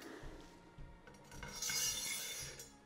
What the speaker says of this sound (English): I'm going to use a little pick and just move these T-nuts in place